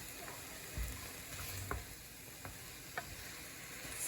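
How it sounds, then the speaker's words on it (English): Garlic is stirred into a hot pan of vegetables and onions for a chicken curry stew, a quiet steady sizzle with a few distinct scrapes and knocks of the utensil against the pan, no voices. "stir in the garlic so it's evenly spread"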